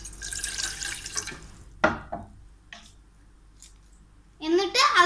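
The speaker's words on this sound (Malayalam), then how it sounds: "ആദ്യം നമ്മൾ ഒരു ഗ്ലാസ് വെള്ളം ഇതിലേക്ക് വെച്ച് കൊടുക്കണം" A glass of water is poured into a pan to start sugar syrup for bread kunafa, a short splashing rush at the start, then a few clanks of kitchenware and a voice speaking near the end.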